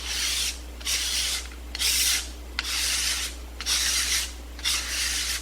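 A woodworking hand tool scrapes a wood surface into fine powder in six steady, evenly spaced strokes, each a close, dry rasping rub separated by short pauses.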